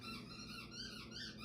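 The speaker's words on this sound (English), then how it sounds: "That's the baby playing with her toy, if anybody can hear the squeaking." A baby's toy gives a continuous, wavering squeak, fairly faint and steady throughout, with no voices over it.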